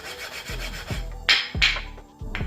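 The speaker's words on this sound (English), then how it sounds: "I usually just put my two pads together like this and rub them together like this." Two brake pads, for a 2016 BMW X4 M40i front brake job, are rubbed together by hand in several short scraping strokes, close and moderately loud.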